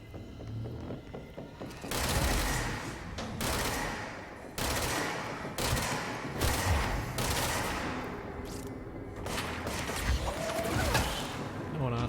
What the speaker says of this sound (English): I can hear someone else shooting at me.